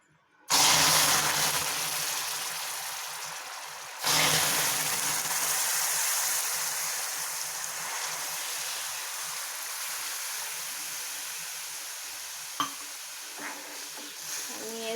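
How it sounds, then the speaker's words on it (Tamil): Warm water poured into browned, caramelised sugar in a hot pan for sugar syrup: a sudden loud hiss and sizzle that eases into steady bubbling and stirring, with a second pour partway through and a light clink of utensils near the end. "சூடான வெதுவெதுப்பான தண்ணியை இதில் சேர்த்துக்கோங்க."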